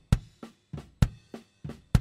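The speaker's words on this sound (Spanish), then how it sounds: "El bombo original suena así." An original kick drum picked up by a microphone inside the drum, struck seven times in a steady rhythm, each hit a close, dry, punchy thump with short decay and silence between.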